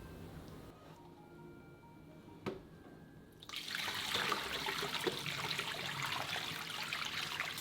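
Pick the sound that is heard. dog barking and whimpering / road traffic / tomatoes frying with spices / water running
water running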